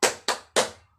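A steady trio of sharp hand claps, near and distinct, marking the beat of a children's song about loving Allah and the Prophet.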